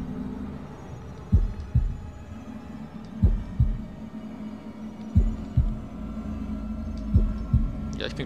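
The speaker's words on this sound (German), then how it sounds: "Als ob ich meinen Herzschlag kontrollieren könnte." A heartbeat in the horror game House of Ashes, slow thudding double beats repeating at a steady pulse over a low droning hum, with no speech.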